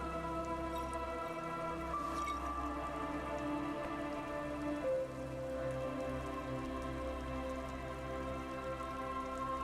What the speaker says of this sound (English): He turns his swollen face against the wind, freezing rain battering his cheeks.